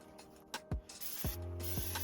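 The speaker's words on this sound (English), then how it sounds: "I'm gonna give her a quick spray with the rust check, coat, and protect while I'm under here" Short hissing bursts of rust-proofing spray aimed under a car, several quick puffs and then longer sustained sprays, close and loud.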